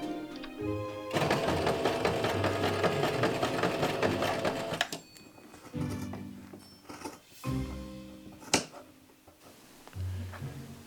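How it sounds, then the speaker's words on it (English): A sewing machine stitches a leather jacket lapel for a cosplay, running loud and steady for several seconds, then stopping and restarting in shorter bursts with pauses between. "I'm going to sew it and just cut the excess fabric."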